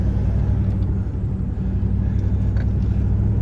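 A heavy truck weighing over 5,000 pounds, hauling old roofing shingles to a transfer station, drives with a steady, loud low engine rumble that holds constant and is heard from inside the cab.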